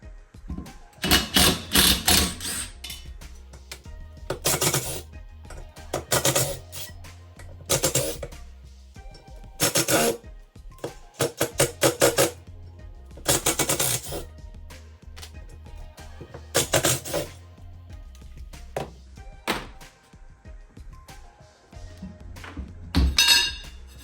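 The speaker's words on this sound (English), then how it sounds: "So I have a 6mm Allen, and that's what we're gonna use to take all of these out." A 6mm Allen key works the brake rotor bolts off the rear wheel of a Yamaha Raider motorcycle: repeated bursts of sharp metallic clicking and clinking, nearby, separated by short quiet gaps, with no speech.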